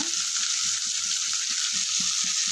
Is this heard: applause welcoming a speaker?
no